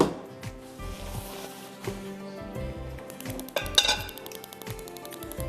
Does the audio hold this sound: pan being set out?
yes